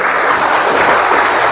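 An audience fills a hall with dense, steady applause, a loud, continuous wash of clapping from many hands at a motivational talk.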